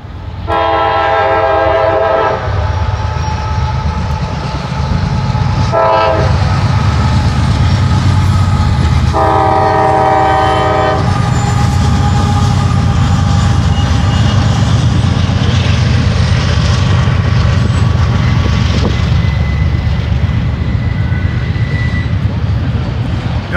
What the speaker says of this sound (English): Got two trains.